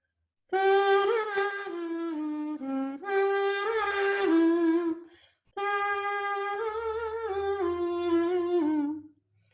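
A metal kazoo hummed into in two long, buzzy phrases with wavering pitch and a brief pause between them, close and fairly loud, with no talking.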